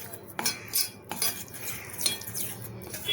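A spoon stirs a ghee Mysore pak mixture until it is free of lumps, giving close, scattered clinks and scrapes against the vessel at an uneven rhythm, with no talking.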